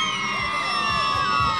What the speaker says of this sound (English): you got all these lovely fans over here screaming girls, Joel Sampson!